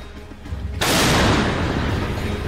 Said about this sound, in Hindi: रूस के ठिकानों से आग के गोले बरसाती ये है जर्मनी की सबसे भरोसेमंद आर्टिलरी। नाम है PZH-2000।